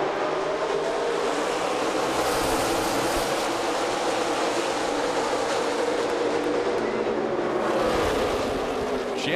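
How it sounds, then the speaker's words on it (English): NASCAR Xfinity race cars roaring off the race start at Kansas Speedway, a loud, dense wall of engine noise from the pack with a rising whine as the field accelerates. "Chandler Smith jumps out in front of Jones on this start."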